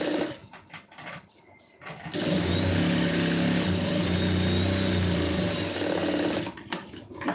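A sewing machine stitches a seam a quarter inch in from the edge in a long continuous burst of several seconds, with quieter handling sounds before and after.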